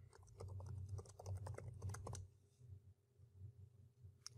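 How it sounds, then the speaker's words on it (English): Keys clatter on a computer keyboard in a quick close burst of typing, then pause, followed by a few softer scattered keystrokes. "Type in a password."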